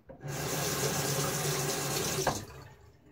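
Tap water runs steadily into a sink for about two seconds while a safety razor is rinsed during a wet shave, then cuts off, leaving a quiet tail.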